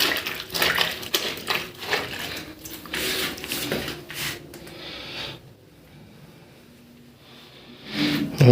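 Water splashes and pours over laundry in a basin, with bursts of sloshing and running water through the first five seconds, a quieter lull, then a brief louder splash at the end.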